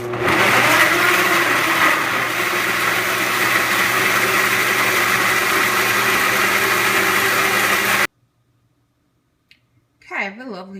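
A blender whirs loudly and steadily for about eight seconds, puréeing cooked vegetables with garlic and jalapeño for tomato soup, then stops abruptly, leaving near silence and a brief voice.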